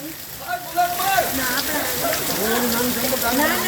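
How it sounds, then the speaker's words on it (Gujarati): Heavy afternoon downpour in Wankaner drums in a dense, steady hiss on surfaces, while excited people talk loudly over it. "સારો વરસાદ આવી રહ્યો છે"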